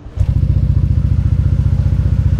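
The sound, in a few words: Yamaha NMAX scooter with Prospeed racing exhaust revving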